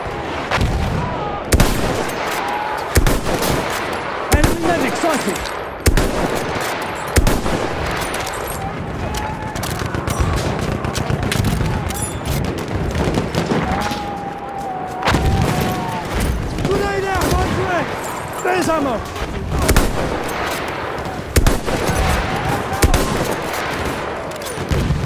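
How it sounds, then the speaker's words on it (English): Constant gunfire and explosions fill a Battlefield 1 battle on PS5, with bursts of machine gun fire, heavy booms and scattered shots overlapping, while voices shout and speak throughout. "Machine gun over there."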